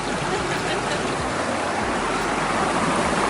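A mini waterfall pours into a cold nature stream, a dense, steady close rush of water that fills the whole stretch without pause.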